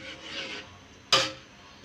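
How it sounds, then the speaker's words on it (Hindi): A spoon scrapes and rubs against the bottom of a cooking pot while stirring rabdi, two soft rasping strokes with the second sharper and louder, close up and alone. "इसे चलाते रहना लगातार ताकि नीचे को ये चाटे नहीं राबड़ी"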